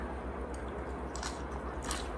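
Someone chews a Buddha bowl of rice, vegetables, avocado, ginger and sesame close to the mic, giving soft, wet munching and squishing with faint crunches over a low hum, with no talking.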